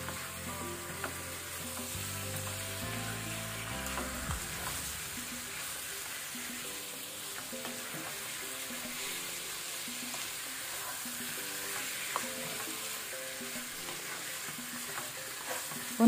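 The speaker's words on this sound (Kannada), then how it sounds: "ಒಂದು 2 to 3 ಮಿನಿಟ್ಸ್ ಮೀಡಿಯಂ ಫ್ಲೇಮ್ ಅಲ್ಲಿ ಫ್ರೈ ಮಾಡ್ಕೊಳ್ಳುವ" Chicken roast fries over a medium flame while being stirred, a soft, steady sizzle with occasional spoon scrapes and clinks against the pan, moderately quiet and continuous, with no talking.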